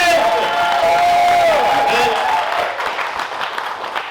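A comedy club audience at a stand-up show claps, cheers and whoops in a dense, loud wash that fades slightly toward the end, with a voice sounding over the crowd.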